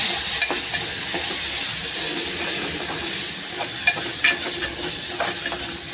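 Ground masala paste frying in oil and being stirred, a dense close sizzle with repeated scraping and clinking of a spoon against the pan, no voices.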